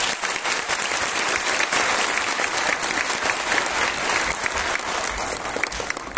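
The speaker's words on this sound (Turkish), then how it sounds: "güçlü bir alkış istiyorum öğretmenler için" Audience applause for teachers at a Disability Day event held by a charitable association in Arapgir, a sustained, loud and even roar of many hands clapping throughout, with no talk over it.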